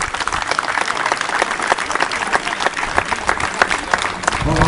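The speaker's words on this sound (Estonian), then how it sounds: "teeme aplausi neile" An audience at a 2017 kart racing event applauds retro class kart drivers, a dense and continuous round of clapping that stays loud for the whole stretch.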